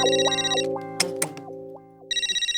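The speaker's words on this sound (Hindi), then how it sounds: "फोन बज रहा है आपका।" Telephone ringtone chiming in bursts of bright repeated electronic tones, loud and close, pausing briefly between rings amid a couple of sharp clicks before the ringing resumes.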